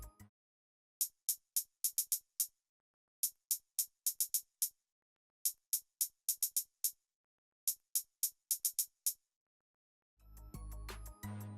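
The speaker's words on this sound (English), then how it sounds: "So the hi-hat and the verses sound like this." Crisp hi-hat ticks in the verse section of a smooth club R&B beat, played alone in short syncopated bursts of clustered hits separated by gaps, ending in a brief burst of fuller music.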